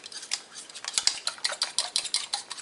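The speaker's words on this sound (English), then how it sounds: "this is kind of a noisy dish to be mixing while I'm filming" Eggs and spices being mixed in a bowl, with a utensil clinking and scraping against the dish in quick, irregular strokes, close and fairly loud, with no talk.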